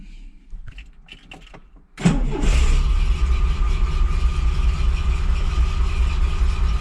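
A Triumph TR7 left unused in a garage for 23 years cranks and fires at about two seconds after a few faint clicks, then settles into a loud, steady, slightly rough idle heard up close.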